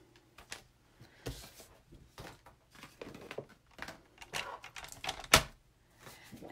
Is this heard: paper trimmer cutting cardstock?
yes